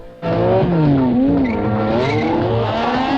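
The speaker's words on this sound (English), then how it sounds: "Every time we cut to that car with the engine roaring" A car's engine roars continuously in TV show footage, loud and close, its pitch sliding up and down as it revs along a stretch of road with no talking.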